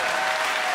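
A short, loud burst of dense crowd applause from an audience at a live comedy show, continuous with no gaps.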